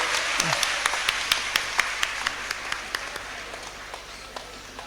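A crowd at an outdoor political rally claps to welcome Dr. Thomas Isaac, a dense, even round of applause with a few sharper claps standing out, fading slightly toward the end.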